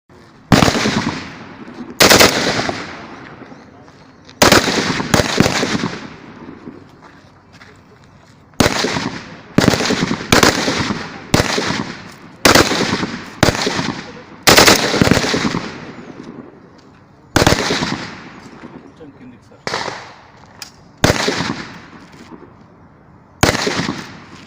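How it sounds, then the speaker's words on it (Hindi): Police firing practice with AK-47, MP5 and Glock guns at a training range: a long series of sharp, loud gunshots, single shots and quick bursts separated by short pauses, each cracking out and decaying, with no other sounds between. "महेश भागवत समेत दिगर पुलिस एहलकारों ने AK-47 MP5 ग्लॉक गन के साथ फायरिंग की प्रैक्टिस की"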